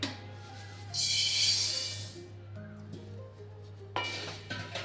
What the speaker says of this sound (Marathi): मी आता हे पसरट भांड्यात काढून घेणार आहे